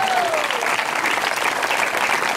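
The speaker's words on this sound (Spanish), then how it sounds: "El fuerte aplauso al Señor entonces" A congregation at a church sermon breaks into dense, loud applause, a continuous wash of many hands clapping together with some crowd voices mixed in, steady throughout.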